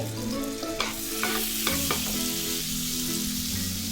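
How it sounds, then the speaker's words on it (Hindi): A tablespoon of butter fries in a pan for rava idli masala, giving a close, continuous sizzle with scattered stirring clicks and scrapes and no speech. "यहाँ पर हमने एक पैन ले लिया है दोस्तों, इसमें मैंने 1 टेबलस्पून बटर डाल दिया है।"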